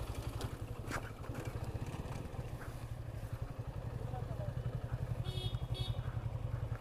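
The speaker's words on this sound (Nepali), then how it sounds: "एउटा बाइक आउँदैछ पछाडि." Motorcycle engine throbbing steadily as it comes up from behind on a suspension bridge, a low rhythmic rumble with clatter from the bridge deck and a voice talking over it.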